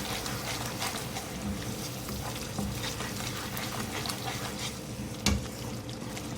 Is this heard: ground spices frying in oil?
yes